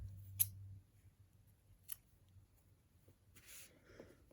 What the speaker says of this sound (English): we are going to snip this off